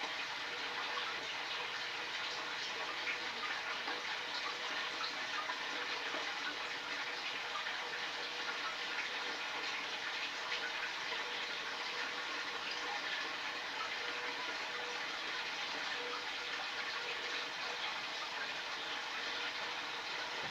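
Water gushing steadily into a 75-gallon aquarium tank during a water change, a continuous hissing pour at moderate level that holds unchanged throughout, alone with no talking.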